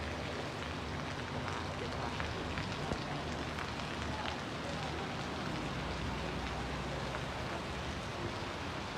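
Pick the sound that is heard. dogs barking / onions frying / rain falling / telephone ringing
rain falling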